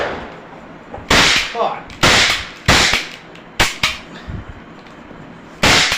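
Sharp Diwali firecracker bangs burst one after another at irregular intervals, six or so loud cracks with brief crackling tails, close to the listener.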